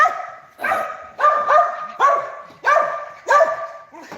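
Several dogs barking indoors, a steady series of loud, close woofs and yips about every half second, with faint whimpering between barks and no clear speech.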